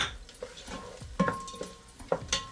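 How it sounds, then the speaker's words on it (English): Locust beans and onion fry in a pan for efo riro, giving a soft, quiet sizzle punctuated by a few light clicks and stirring taps. "I'm going to let this fry for another 2 minutes before adding anything else to my pot"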